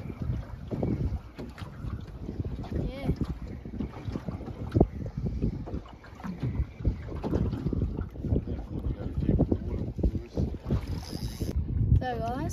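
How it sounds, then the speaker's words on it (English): A boat pulls up on choppy water off Green Island, Queensland, with a steady wash of wind noise around 10 knots battering the microphone and continuous low rumbling chop throughout. "Boats pulling up at the moment, chopping it out."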